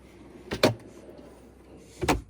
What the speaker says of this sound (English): Now we can open our doors completely, which is perfect.